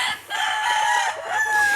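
A rooster crows loudly and close by, one long drawn-out call with a rising, wavering pitch, and no talking.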